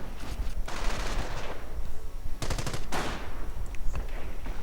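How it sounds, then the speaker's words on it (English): A .30 caliber machine gun fires in a WWII real-time strategy game, rattling off loud rapid bursts with brief pauses between them, mixed with other battlefield gunfire and no talk. "30 caliber setting up to try and stop a German assault"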